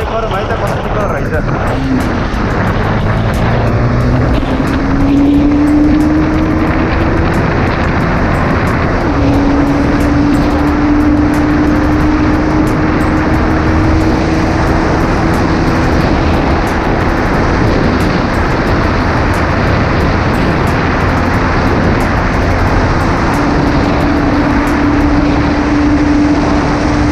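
A KTM Duke 250 motorcycle revs under a power check, its engine droning loud and steady. The pitch climbs in two rising pulls while strong wind rush buffets the sound throughout.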